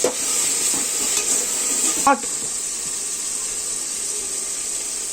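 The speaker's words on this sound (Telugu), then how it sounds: "టమాటాలు బాగా వేగుతున్నాయి." Tomatoes with a little salt fry in a pan with a steady hiss while a spoon stirs and scrapes, with a sharper clank near the middle.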